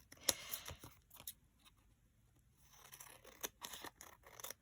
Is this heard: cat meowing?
no